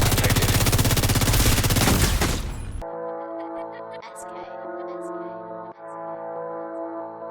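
Rapid automatic gunfire from a Famas rifle in The Division 2 rattles loudly in a dense, continuous burst for a few seconds, then cuts off abruptly to leave steady game music and effects.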